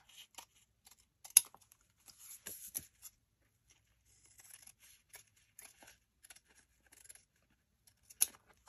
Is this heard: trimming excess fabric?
yes